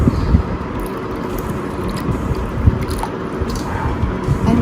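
Curd being whisked with sugar, salt and milk for dahi bhalla: a steady wet, squishy stirring noise at close range, continuous for several seconds with no talking.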